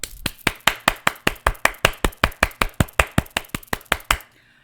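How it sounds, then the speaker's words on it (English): Sharp single hand claps struck in a fast, even rhythm, about twenty in a row, close and loud, stopping abruptly near the end. "Hand clap for Donald Trump."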